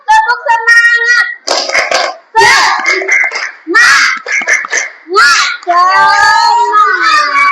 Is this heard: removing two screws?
no